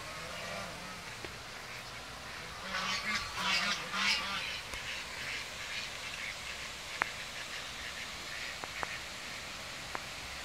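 Ducks quacking on water in a noisy outdoor setting, a cluster of calls in the middle against steady background hiss, with a few sharp clicks later.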